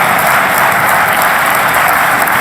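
Dense, continuous applause from a crowd, loud and close, an unbroken wash of many hands clapping with no voices standing out.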